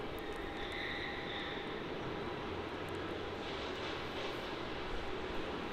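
An Airbus A321neo airliner at Melbourne Airport gives off a continuous, fairly loud broadband engine roar that holds steady throughout, with no voices.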